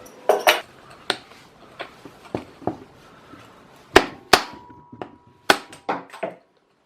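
A hammer strikes a jammed bike bearing to knock it out: about a dozen sharp, loud metallic blows in an irregular rhythm, some close together in pairs, with quiet gaps between them.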